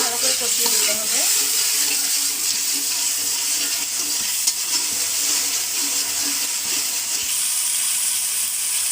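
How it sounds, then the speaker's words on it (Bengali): Spices for a light fish curry with cauliflower fry and are stirred in hot oil, giving a steady, close hissing sizzle that runs throughout with faint scraping and clinks, no speech over it. "এখন কিন্তু মশলাগুলো খুব ভালো করে কষিয়ে নেব।"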